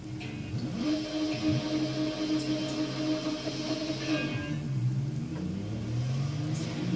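A motorcycle engine in the racing game RIDE revs and rumbles steadily, with rising and falling pitch as the bike accelerates, heard on its own at moderate loudness without talk.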